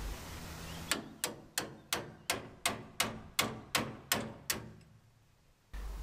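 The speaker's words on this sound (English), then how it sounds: "Using a hammer and punch, insert the provided split pin into the aligned holes." A hammer drives a punch to seat a split pin through aligned holes in a drive shaft: ten evenly spaced metallic taps, crisp and close, in a steady rhythm.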